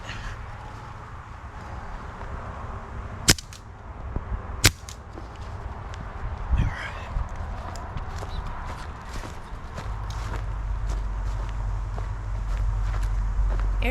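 Air guns fire during training drills: two or three sharp, separate cracks stand out close by against a steady background hum.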